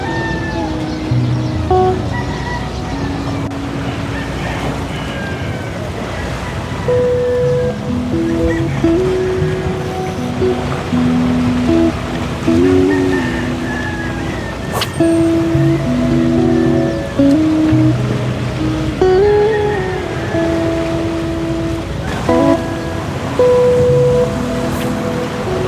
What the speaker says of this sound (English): tiny waves kiss the boulevard wall, catching their light